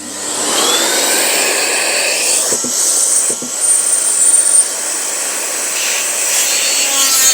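A vacuum cleaner whines steadily at a loud, even level, with a couple of brief knocks partway through and no voices.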